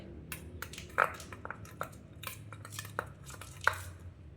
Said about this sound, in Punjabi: ਥੋੜਾ ਜਿਹਾ ਆਪਾਂ ਇਹਦੇ ਵਿੱਚ ਹਣੀ ਪਾਵਾਂਗੇ ਇਹਨੂੰ ਆਪਾਂ ਚੰਗੀ ਤਰ੍ਹਾਂ ਮਿਕਸ ਕਰ ਲਾਂਗੇ